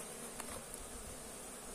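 Honey bees hum faintly and steadily around an opened hive as honeycomb pieces are cut out during a harvest of more than 16 liters of honey.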